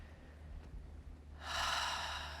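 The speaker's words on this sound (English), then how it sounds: "And a breath in through your nose and an exhale out." Someone breathes in through the nose and then exhales, a soft, quiet breath with an airy rush near the end, close and alone in a calm room.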